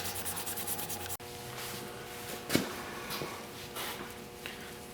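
An SOS-type abrasive pad scrubs a brass primer valve in steady, close rubbing strokes, with one sharp knock early on.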